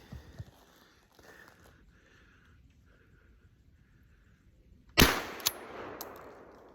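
A single sharp gunshot, fired one-handed at a squirrel while hunting outdoors in freezing weather, cracks loudly after several seconds of quiet woods ambience and trails off into a brief echo with a small knock after it.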